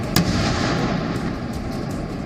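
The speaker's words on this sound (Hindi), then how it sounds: "आग की वजह से गैस सिलेंडरों में धमाके होने लगे।" A sharp, loud blast opens the clip, followed by a dense, roaring rumble of continuing gas cylinder explosions and crackle from a burning truck, with no talking.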